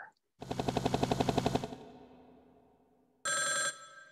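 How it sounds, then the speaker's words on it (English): A telephone bell sound from a Mac music app's instrument selector rings in a rapid trill for about a second, fades with a short echo, then a brief electronic ring tone follows. "Telephone ringing."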